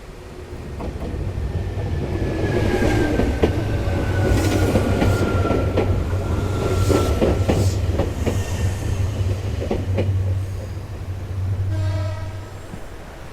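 A train rolls past on nearby tracks with a loud, steady rumble and rhythmic clatter of wheels, lasting the whole stretch before easing off at the end.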